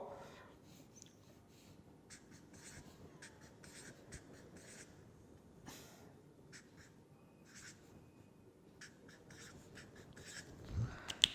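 A hand draws a diagram of ions during a lecture on the Nernst equation, giving faint, scattered scratchy strokes at steady low level, with a soft louder knock near the end.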